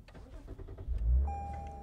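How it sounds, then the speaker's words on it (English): A 2021 Lexus IS350 F-Sport's engine starts inside the cabin: a short low crank and swell settling into a steady, fairly quiet idle, with a thin electronic chime tone coming in as the start-up finishes. "start the car."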